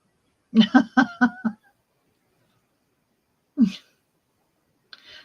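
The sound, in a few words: sneeze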